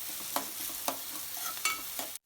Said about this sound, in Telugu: ఇప్పుడు ఆనియన్స్ వేసేసి మంచిగా ఫ్రై చేసుకుందాము